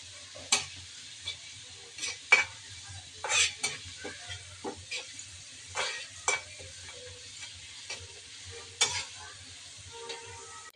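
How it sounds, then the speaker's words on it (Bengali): Fish pieces fry lightly in a pan with oil, giving a soft, steady sizzle, while a spatula stirs and scrapes in irregular clicks and clatters at close range, with no talking. "যে মাছগুলো দিয়ে নিচ্ছি, হালকা একটু ভেজে নেব"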